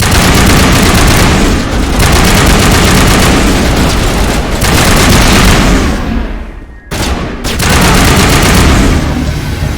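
Sustained, dense gunfire in a Mass Effect firefight, heavy loud bursts nearly continuous with brief lulls around the middle, close and booming throughout.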